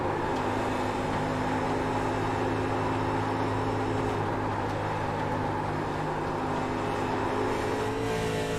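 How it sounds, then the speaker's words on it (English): Stock car engine in the racing video game Vertex Stock Car Cup, on a 1987 Darlington race, droning at high revs with a steady buzzing tone that climbs slightly, moderately quiet and continuous without speech. "you can hear it just go right up the revs"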